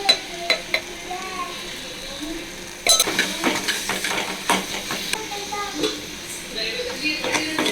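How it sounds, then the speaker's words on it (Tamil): A tomato mixture with chili powder being stirred and fried in a pan, with soft sizzling and intermittent clinks and scrapes of a spoon against the pan, while someone talks over it. "மிளகாத்தூளையும் போட்டு நல்லா இந்த மாதிரி ஃப்ரை பண்ணிக்கோங்க"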